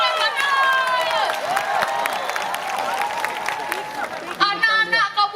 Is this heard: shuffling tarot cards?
no